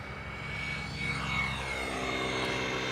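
Airliner engines on a landing aircraft, a distant steady jet roar with a faint whine, holding broadly level throughout without spooling up.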